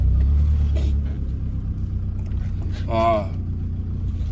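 A small Mini Mac engine with an ungoverned carburetor runs with a steady low rumble, rising briefly as it revs partway through, while someone talks over it.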